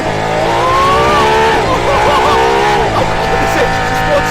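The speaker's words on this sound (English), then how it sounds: "This engine just wants to rev." An Aston Martin Valkyrie's engine revs hard on a race track, its loud, steady tone climbing and dipping in pitch throughout.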